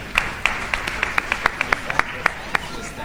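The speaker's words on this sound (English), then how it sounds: "A round of applause for them." A small audience claps at a live-streamed event, with sparse, distinct hand claps in an uneven rhythm that stay fairly close and moderately loud.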